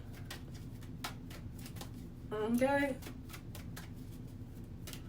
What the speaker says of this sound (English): What am I still shuffling for?